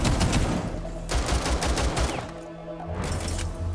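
Kaid's shotgun firing in a Rainbow Six Siege match, with a burst of loud, close blasts and a clustered run of shots, then a short pause and more fire, over low game rumble.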